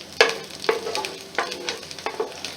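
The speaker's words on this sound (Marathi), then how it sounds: "तेलावर चांगलं परतून घ्यायचं आहे" Chopped garlic pieces fry in hot oil with a steady close sizzle, broken by several sharp bursts of stirring and scraping about every half second to a second, with no voices.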